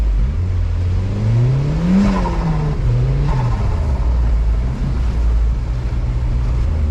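Turbocharged Mazda Miata driven hard through snow with the top down, its engine revving loudly with rising and falling pitch sweeps over a constant rumbling drone, no talking.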